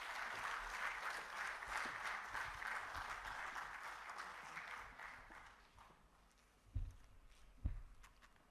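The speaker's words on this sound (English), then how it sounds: "I thought that hand clap can be bigger." An audience at the second day of a conference applauds steadily with dense hand clapping at moderate distance, fading toward the end before a couple of louder thumps.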